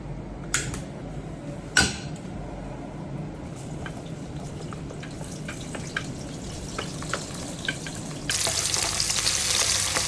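Chopped vegetables sizzle steadily in a hot pan for a home-cooked Filipino dish, with a couple of sharp utensil clinks early on and the frying growing brighter and louder near the end.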